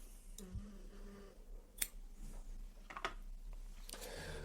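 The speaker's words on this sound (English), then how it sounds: "So I'm actually going to cut the yarn" Scissors snip through crochet yarn on a granny-square dish cloth, giving a few quiet, sharp clicks and cuts in an otherwise hushed setting.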